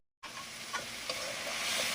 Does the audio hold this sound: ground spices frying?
yes